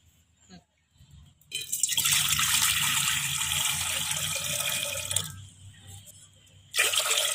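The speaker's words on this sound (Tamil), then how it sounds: "தண்ணி பருப்பு வேகிற அளவுக்கு தண்ணி ஊற்றிக்கலாம்." Water poured into a cooking pot for lentil sambar, a broad steady rushing gush lasting several seconds, stopping briefly, then resuming, close and moderately loud.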